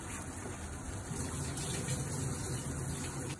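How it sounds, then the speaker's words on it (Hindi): Soaking water drained off soaked rice while a pot of rice water comes to the boil, giving a steady, soft rushing gush that runs evenly throughout. "राइस जो हमने सोक करके रखा है उसका पानी फेंकें"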